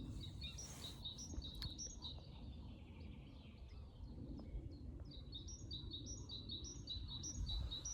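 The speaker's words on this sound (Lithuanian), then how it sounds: "Paukščiukai labai gražiai gieda" Small songbirds chirp and trill in repeated bursts at dawn in an open-air campsite, several calls overlapping at moderate distance over a steady low rumble of background noise, with no talking.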